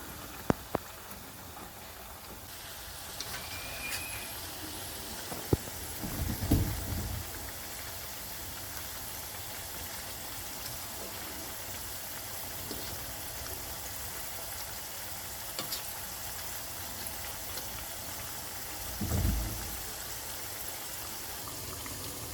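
Homemade potato chips frying in a pan of hot oil, a steady soft crackling sizzle like light rain running throughout, with a couple of brief louder bubbling bursts and no talking.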